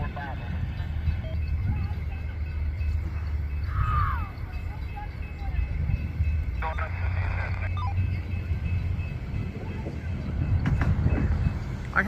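A freight train led by NS and Union Pacific locomotives rumbles past in a steady low roar with wheel noise and squeals, continuous and fairly close throughout.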